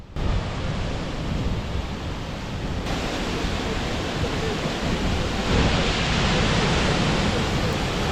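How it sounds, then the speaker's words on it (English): A powerful, steady roar of Dynjandi waterfall in Iceland's Westfjords fills the air, a dense unbroken rush of falling water heard close by with no talking. "Welcome to Dianji Waterfall in the West Fjord of Iceland."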